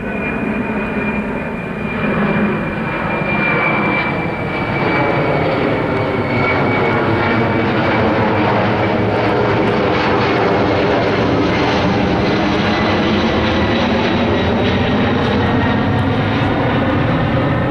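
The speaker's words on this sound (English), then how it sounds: "they deployed the heavy birds, such as the DC-9" Firefighting aircraft, heavy air tankers such as a DC-9, flying over the Holy Fire wildfire near Horsethief Canyon, California; a loud, steady engine drone fills the whole stretch with no talking.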